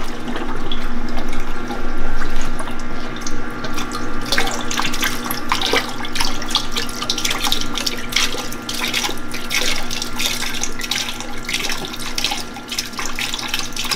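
Water gushes steadily out of a tankless water heater during a descaler flush, a loud continuous rushing stream with spattering and dripping throughout, close by and uninterrupted.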